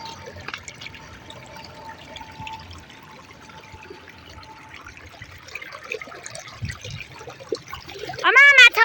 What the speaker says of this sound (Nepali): फेरि call call call call call पानी बगिरहेछ